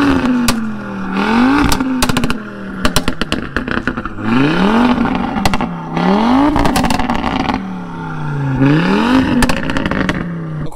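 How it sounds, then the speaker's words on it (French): An Audi RS3 ABT on its stock exhaust revs hard and loudly in repeated rising bursts, with sharp crackling pops and clatter between the pulls, close and dominant throughout. "Pour ce qui est de l'échappement, on est en échappement full d'origine, mais ça fait un boucan pas possible."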